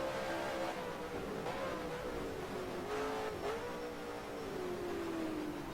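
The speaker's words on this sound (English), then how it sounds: "Now we're riding along with the second place car, Rob Partridge in that Dodge." Onboard engine of Rob Partridge's Dodge Cup Series race car at Sonoma, a close, steady roar that drops in pitch and climbs again at each gear shift, several shifts in a row.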